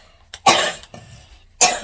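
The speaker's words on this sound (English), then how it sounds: "Because I'm still coughing too," A woman who is sick coughs up close, two sharp loud coughs about a second apart, with a softer throaty sound in between and no talking.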